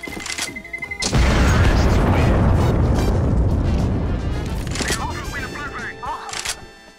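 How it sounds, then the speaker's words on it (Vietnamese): A flashbang grenade detonates with a loud, sustained boom and rumbling roar that fades over several seconds in Counter-Strike on de_Inferno, with clicks and game sounds before and after. "Throwing flashbang."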